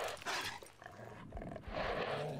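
A dog snarls and barks in the STALKER video game, rough growling and panting bursts at moderate distance, fairly faint and without talk.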